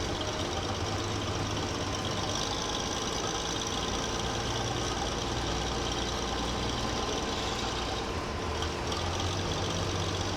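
Combine harvester engine in a farming video game, a steady low idling drone that runs on without a break, with a continuous even rumble across the whole stretch and no talk over it.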